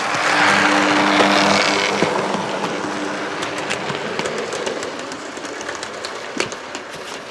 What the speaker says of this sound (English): And that is my Class 37 from Hornby Railroad.